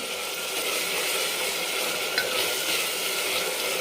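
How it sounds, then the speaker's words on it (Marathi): Chopped onion mixture and slit green chilies sautéing in a pan for chicken biryani, a steady soft sizzle with light stirring scrapes throughout, close and even. "ह्याला आपण एक मिनिटभर परतून घ्यायचं"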